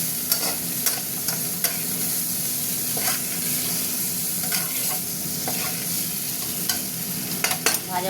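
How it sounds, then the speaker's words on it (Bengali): Papaya pieces fry with tomato in a pan, a steady sizzle broken by repeated scraping knocks of a spatula stirring at an irregular pace throughout. "পেঁপেটা দিয়ে একটু ভাজবো"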